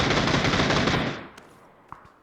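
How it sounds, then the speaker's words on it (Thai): Rapid automatic gunfire in the shooter game PUBG rattles loudly for about a second, then cuts off, leaving a few faint distant single shots. "พวกนี้ยิงไม่แม่นหรอกแต่มันยิงโดนผมแค่นั้นเอง"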